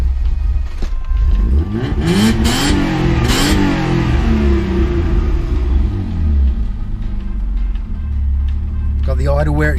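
A Mazda MX3 with a K8 V6 engine idles and revs after a mass airflow sensor replacement. Close, loud rising and falling revs over a low rumbling idle, with someone talking partway through.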